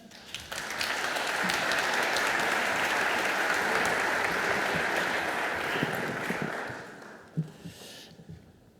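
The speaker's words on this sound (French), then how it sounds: "On vous applaudit" A crowd at Lyon's city hall applauds the city's mayor, a full swell of clapping that rises quickly, holds steady for several seconds, then tapers off into a few scattered last claps.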